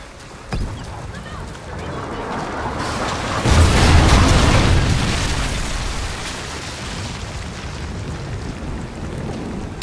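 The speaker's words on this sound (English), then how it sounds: "Friendly Trinity rocket inbound." A Trinity rocket strike in a zombies shooter game hits as a loud, rolling explosion that swells midway and slowly fades into a rumbling din.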